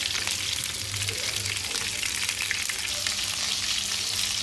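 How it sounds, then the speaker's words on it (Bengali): Pieces of rohu fish fry in oil on a tawa, giving a close, continuous crackling sizzle with no talk. "এখন আমি এই তাওয়ার মধ্যে তেল দিয়ে মাছগুলো ভেজে নিচ্ছি"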